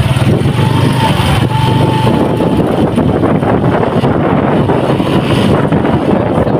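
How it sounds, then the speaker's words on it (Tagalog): Strong wind buffets the microphone at an outdoor fishing spot, a loud, continuous roar and rumble with no break, close and dominant throughout. "Mahangin na naman mga idol."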